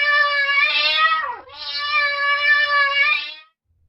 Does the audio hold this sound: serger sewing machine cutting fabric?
no